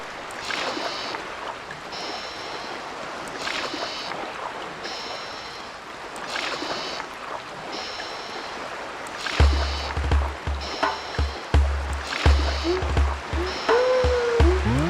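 In Animal Crossing, steady wash of water around a moving boat at sea with rhythmic swells every second or so; a low droning hum and brief tones join in the second half.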